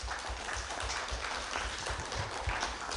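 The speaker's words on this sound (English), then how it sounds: "Let's give them all another great big Dogwood Radio Mystery Theater round of applause" An indoor audience at a radio mystery theater performance applauds, a dense, even wash of many hands clapping at moderate loudness for the whole stretch, with no one speaking.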